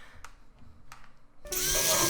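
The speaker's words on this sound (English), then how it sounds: "Next, you are going to whisk it up using the hand mixer." Hand mixer whisking a cheesecake mixture, starting abruptly after a few soft taps and running as a loud, steady buzzing whir for the final half second.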